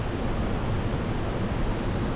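A steady wash of falling water from waterfalls in Solang Valley near Manali, continuous broadband roar holding even and close for the whole stretch, with no talking.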